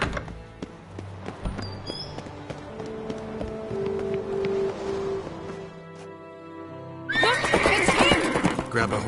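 A horse in The Witcher game whinnies amid hoof clip-clops and trotting, a long neigh mid-way, then louder hoofbeats and bustling noise surge near the end.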